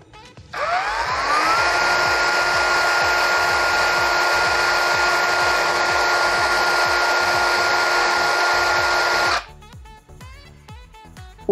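A Ryu RCCS185 cordless brushless circular saw spins up and runs at a loud, steady high-pitched whine for about nine seconds, then cuts off and winds down, with no talk over it.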